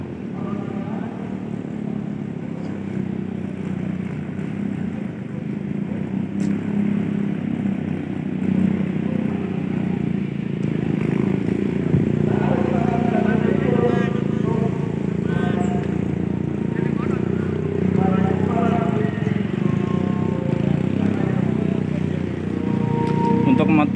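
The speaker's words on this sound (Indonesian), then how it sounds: "Motor yang coba menerobos kebanyakan mati." Motorcycles push through a flooded town square in Demak, a continuous rumbling engine drone with washing water noise, steady and fairly loud throughout, with people talking in the background.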